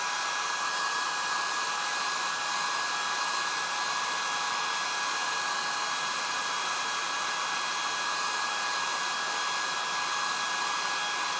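A hair dryer blows a constant, loud, even whine close by while drying stencil paint on a sweatshirt, running without break or change from start to finish.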